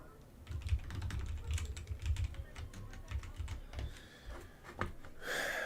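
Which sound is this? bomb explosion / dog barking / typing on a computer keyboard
typing on a computer keyboard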